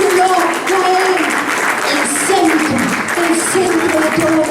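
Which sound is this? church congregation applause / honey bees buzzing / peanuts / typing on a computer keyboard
church congregation applause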